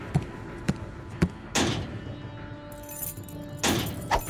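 Cartoon keys jangle in a Roblox animation, with a few sharp metallic clinks followed by two louder, longer rattling bursts, close and clear with no talking.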